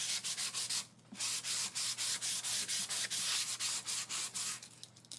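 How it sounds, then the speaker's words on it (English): Sandpaper rubs back and forth over a lacquered sample board in steady, rapid strokes with short pauses, loud and close, with no talking. "sanding, sanding, sanding."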